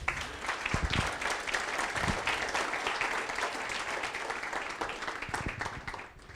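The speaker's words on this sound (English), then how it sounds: "give yourselves a round of applause" An aviation safety symposium audience applauds, a dense crowd of clapping that starts strong, holds steady and tapers off near the end with faint voices beneath.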